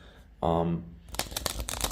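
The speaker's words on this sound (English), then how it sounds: "While I'm shuffling these cards" Oracle cards from a Starlight Oracle deck being shuffled by hand, a brief tone at first, then a run of rapid crisp riffling flutters and slaps, close and fairly loud, with no talking over them.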